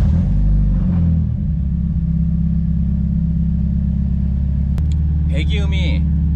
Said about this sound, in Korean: 배기음이 살짝 달라. 근데 얘도 충분히 뭔가 파워풀하기도 하고